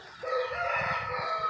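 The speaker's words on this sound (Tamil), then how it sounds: "நாட்டுக்கோழி வளர்த்துக்கிட்டு இருக்காங்க" A rooster crows loudly and close by in one long, strained call, with country chickens clucking faintly beneath it on a farmhouse plot.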